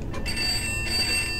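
Telephone ringing inside the Pineview Drive video game, a steady electronic ring with sustained bright tones over a low background hum, continuous and moderately loud throughout.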